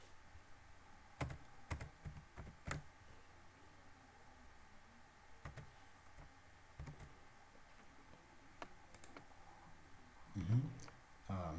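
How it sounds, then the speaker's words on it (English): A password is typed on a computer keyboard, with faint, sparse key clicks in short clusters over quiet room hiss and a brief louder rustle near the end. "ndashyira mu password"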